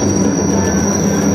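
Interior of an LRT light rail train riding between stations in Palembang, a loud continuous rumble of wheels on track with a steady high whine, no talking.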